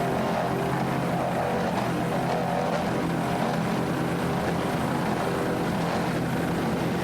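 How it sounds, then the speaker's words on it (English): A 38-foot Fountain offshore racing powerboat in the Super V class roars steadily at throttle during an offshore Grand Prix race, a loud, continuous droning engine note with no break across the whole stretch. "Nice throttling there by Wyatt Fountain."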